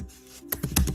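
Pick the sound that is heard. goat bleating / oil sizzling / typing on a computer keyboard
typing on a computer keyboard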